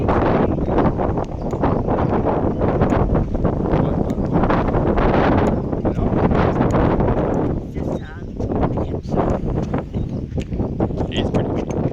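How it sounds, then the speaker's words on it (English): Strong wind blows outdoors, buffeting the microphone with loud continuous rumbling gusts, while people talk briefly underneath. "It's pretty windy."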